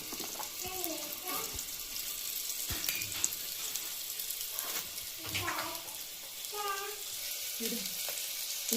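Sliced onions and whole spices fry in hot oil for a vegetable biryani. A continuous close sizzle runs throughout, with a few brief voice-like sounds over it.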